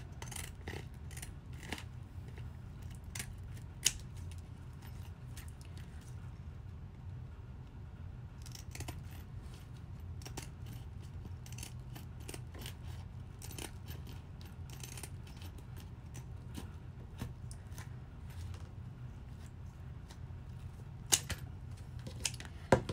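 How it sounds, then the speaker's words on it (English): Fiskars pinking shears cut around fabric edges at close range in a quiet room, a string of soft crisp snips with short pauses, some clicks louder than others. "I'm going to use my pinking shears and just cut around the edges"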